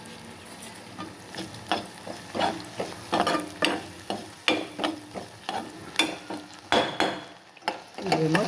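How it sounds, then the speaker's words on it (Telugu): Masala for a broad bean curry, with tamarind and salt added, frying in a pan: a soft sizzle under a steady run of rhythmic spoon scrapes and taps against the metal pan, close up, with no speech. "మసాలా వేగుతుందండి"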